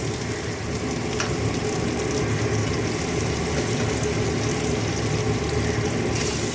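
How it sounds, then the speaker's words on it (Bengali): Koi fish frying in a pan for a home-style tel koi produces a loud, continuous, crackling sizzle that holds steady for the whole stretch, with nobody speaking. "এবার আমি কই মাছটা দিয়ে দেবো, সব দিয়ে দেবো, কই মাছটা দিয়ে দেবো।"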